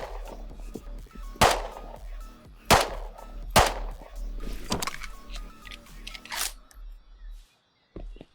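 Gunshots in the survival game Rust crack out as single sharp reports, about five spread over several seconds against a low steady hum, with a faint rattle between them.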